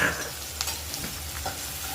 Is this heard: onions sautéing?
yes